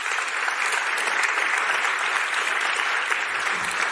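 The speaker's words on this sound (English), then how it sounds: "I feel like she deserves a second round of applause." A large audience at a talk on building high-performing teams gives sustained, dense applause, a steady wash of clapping that holds at an even level for the full four seconds with no speech over it.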